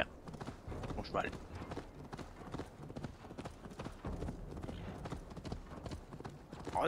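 Hoofbeats of a horse galloping in Assassin's Creed Valhalla on Xbox Series X: steady, rhythmic clip-clop throughout, close and moderately loud, with someone talking over it.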